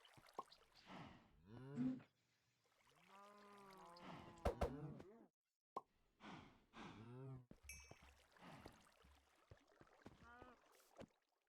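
Cows in the Minecraft Stoneblock modpack give several drawn-out game moos, spaced by short gaps and layered with other in-game sound effects, fairly loud against a quiet background.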